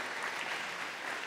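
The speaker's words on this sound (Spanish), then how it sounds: "démosles un aplauso" A church congregation claps steadily for the young people under 25 standing up, a continuous, even burst of applause filling the room.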